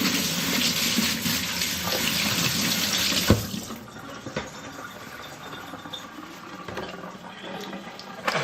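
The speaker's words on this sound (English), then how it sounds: "Just wash my hand real quick." A hand rinsed under a running kitchen tap, a steady close rush of water that splashes and shifts as the hand moves, easing slightly after a few seconds.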